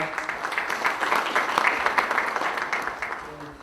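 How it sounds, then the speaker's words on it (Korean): Steady applause from a crowd at a Democratic Party local leaders' training event in Buyeo, South Korea, dense clapping filling the room for a few seconds, with no clear voices standing out. "박수 한번 더 부탁드리겠습니다"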